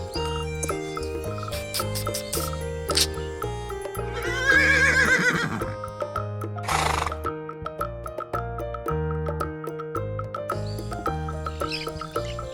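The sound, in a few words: horse neighing, toy animal video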